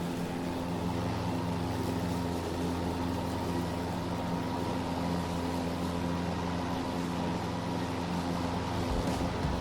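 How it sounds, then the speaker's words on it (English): A battery-powered Ryobi lawn mower runs steadily, its spinning blades cutting grass with a constant whirring hum and no engine noise, close by and alone throughout. "there's no gas motor to make a lot of noise. All you hear is the blades."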